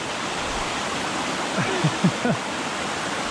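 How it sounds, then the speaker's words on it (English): Steady broadband rush of flowing stream water at a river crossing on a hiking trail near Owls Head in New Hampshire, continuous and fairly close, with a few faint brief thumps toward the end and no talk. "I'm going to assume this is another river crossing."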